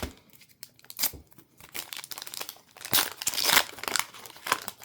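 Hands tear open and crumple the plastic wrapper of a Topps or Panini football trading card pack, giving loud, close, continuous crinkling with sharper ripping bursts near the middle.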